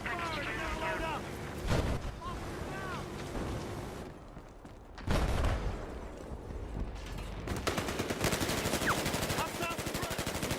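Bursts of heavy machine-gun fire and rapid gunshots in the Battlefield Hardline video game, some close and loud, with game voices shouting over the chaotic combat.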